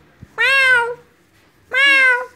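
A cat meows twice, close and clear, each meow a long, even, tonal cry separated by a short quiet pause.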